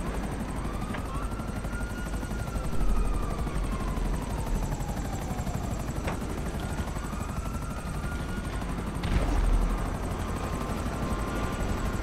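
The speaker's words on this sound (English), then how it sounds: "I'm going for the helicopter now." Helicopter rotor drone in GTA 5, a steady loud whir sustained throughout with pitch sweeping up and down as the aircraft maneuvers, briefly swelling louder twice, with no talk over it.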